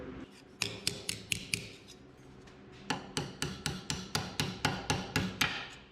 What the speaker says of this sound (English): Hammer that there and you can see it starts to curve it.